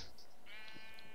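Sheep bleats from a Minecraft-style building game, a wavering bleat sounding up close and fairly loud over a constant background hum, with no talk.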